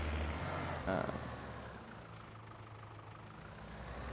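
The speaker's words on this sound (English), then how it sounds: "this one is a great tractor for sure, and it's definitely loud" A tractor idles in the Farming Simulator 22 video game on a 1990s farm map, a low, steady engine rumble with a brief hiss partway through, fairly faint and unbroken by speech.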